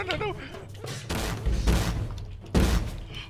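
Gunfire bursts in the Yojimbrawl video game, coming as a few heavy, booming volleys with quieter gaps between them, mixed in among excited shouting voices.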